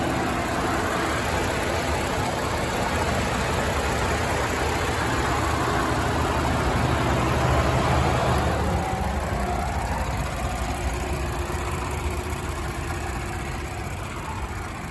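Ford F150 Limited pickup engine idling, heard up close near the exhaust as a loud, steady low rumble with a broad airy hiss, holding even for about fifteen seconds.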